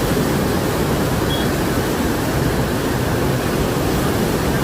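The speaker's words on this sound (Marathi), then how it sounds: "पाण्याचा प्रवाह बघा." The flooded Godavari river surges past in a dense, steady roar of rushing water, loud and unbroken, with no voices over it.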